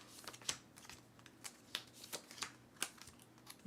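Board game cards from Dreamescape being slid out of plastic card sleeves, giving a string of soft, crisp rustles and clicks in an irregular rhythm, close and quiet with no talk.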